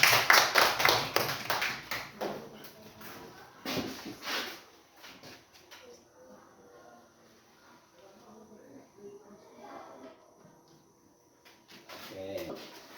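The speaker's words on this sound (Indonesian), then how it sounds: "Ayo tepuk tangan untuk Raka dulu." Classroom of sixth-grade pupils clapping for a classmate during a science lesson, a loud burst of claps at the start and again near the middle, then quieter room sounds with children talking, and more clapping at the end.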